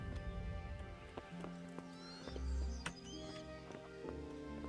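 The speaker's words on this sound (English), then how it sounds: "Oh wait, there is a horse." In the video game Kingdom Come: Deliverance, a horse clip-clops with scattered hoof thuds and snorts, and a brief whinny rises in the middle, all fairly quiet beneath game ambience.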